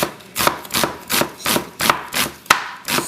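A knife cuts through an onion on a cutting board in seven or eight evenly spaced, crisp strokes, close and clear, with no talking.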